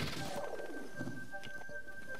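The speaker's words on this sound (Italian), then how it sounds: "Quei piccioni?" Pigeons coo softly in The Legend of Zelda: Breath of the Wild, a few low murmuring calls over a quiet game background with a steady faint tone.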